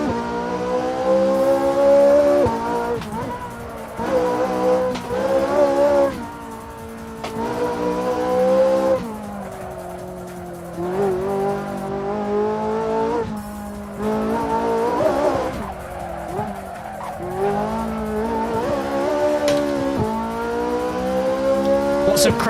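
A race car in Assetto Corsa drones loudly at high revs for over twenty seconds, the engine pitch rising and falling through gear changes, with bursts of tire squeal as it slides and nearly spins.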